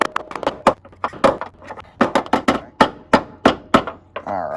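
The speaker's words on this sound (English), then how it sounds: "rubber mallet and see if I can force it in there" A rubber mallet driving a bolt into a step slider on a two-door Jeep JL Rubicon, rapid irregular bursts of sharp close knocks that speed into a steady run of blows.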